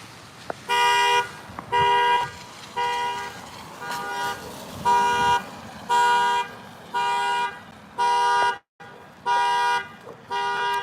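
A car alarm blares in a regular pattern of loud, evenly spaced horn honks, about ten bursts with short gaps between them, heard from close by outdoors.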